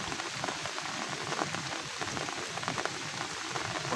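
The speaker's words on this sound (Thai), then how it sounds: "ฝนตกอยู่บ่เซาเลย" Steady rain falls on a hillside farm with rice fields and vegetable plots, a dense, even hiss of drops on surfaces close by, with no talking.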